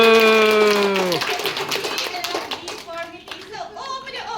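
Clapping breaks out in a classroom first-aid quiz session, short and fairly loud, starting over a fading sung or held voice tone and continuing as scattered claps.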